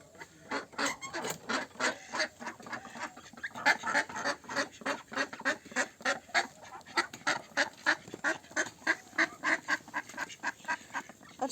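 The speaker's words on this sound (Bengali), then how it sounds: "এখন হাঁসগুলোকে খুলে দেব, ওদের পুকুরে যাওয়ার সময় হয়ে গেছে।" A flock of domestic ducks let out in the morning to go to the pond gives loud, continuous rapid quacking and honking, a dense rhythmic chorus of many calls close by, with no talking.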